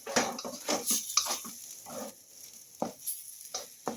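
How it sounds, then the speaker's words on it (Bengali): Pea kachori stuffing frying in a pan on low heat, heard as soft intermittent scraping and stirring strokes with a gentle sizzle, quiet and close. "ওভেনটাকে একটু লোতে করে আমি এটা পুরটা খুব ভালো করে ভেজে নিচ্ছি"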